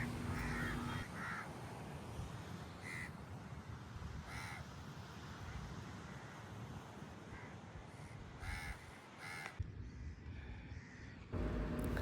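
Crows caw repeatedly at sunrise over Elliot's Beach near the Adyar estuary in Besant Nagar, their calls rising above a steady roar of surf, with several loud bursts spaced across the scene.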